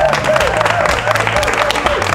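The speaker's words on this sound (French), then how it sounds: "C'est pas beau ça, on applaudit très très fort." A loud crowd at a televised African singing competition show applauds hard, a dense, continuous wash of clapping with some cheering over faint music.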